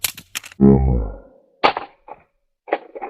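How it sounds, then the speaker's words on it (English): A rifle fitted with a Vector Optics Frenzy 1x24x29 red dot sight is dropped from head height onto the ground, landing with a sharp, loud crack and a rattle among short bursts of nearby voices. "So let's just go ahead and do the final drop test."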